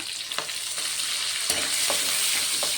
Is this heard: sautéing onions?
yes